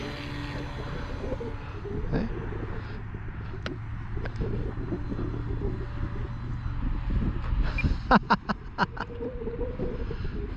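A small electric RC airplane motor, a HobbyZone Carbon Cub S2 on a 2200 mAh 3S battery, whirs steadily in the open air with wind buffeting the microphone, and a brief spoken word comes partway through.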